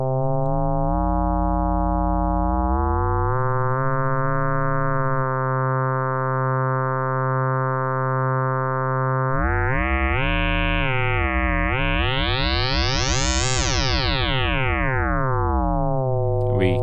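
A Yamaha TX81Z FM synthesizer plays a steady buzzy tone, then bends into an atonal sweep that rises sharply in pitch and falls back, loud and electronic with no voices.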